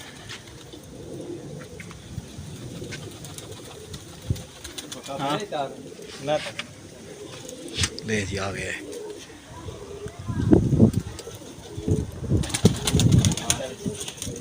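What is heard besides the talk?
pigeons cooing and landing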